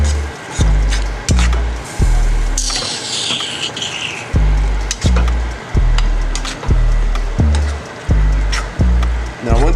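Mac and cheese with ground beef being stirred in a pan, a steady run of repeated scraping thumps and wet squelches keeping an even rhythm, close and fairly loud, with a brief sizzling hiss partway through.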